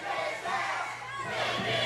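A wrestling crowd at an OVW show shouts and chants together, a sustained roar of many voices filling the arena for a couple of seconds.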